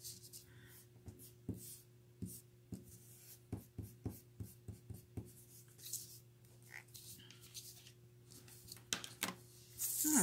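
A white paint pen is drawn across smooth Canson graffiti paper, 220 GSM, making soft, faint scratchy strokes in an irregular rhythm, close up and with no talking.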